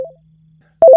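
Telephone keypad tones sound as short, loud electronic beeps, one brief tone followed by a pause and then a quick pair of tones.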